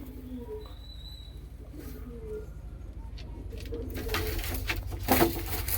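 Pigeons in a loft, including white-eyed Punjabi Malwai birds, give low, soft coos in short phrases, faint at first and growing busier and louder toward the end, with a little speech nearby.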